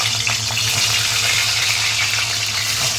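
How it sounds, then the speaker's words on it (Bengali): Eggs frying in hot oil in a pan for egg korma, a steady close sizzle and crackle running throughout with no talk. "তেল গরম হয়ে গেলে এর মধ্যে এক এক করে ডিম ছেড়ে দেবো।"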